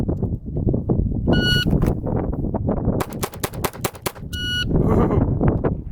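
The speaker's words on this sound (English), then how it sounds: "So we'll see if it gets 6 shots in there in 3 seconds." Rapid volley of pistol shots from a Glock 44 at an outdoor shooting range, loud sharp cracks in quick succession with a couple of electronic beeps between bursts, no talking.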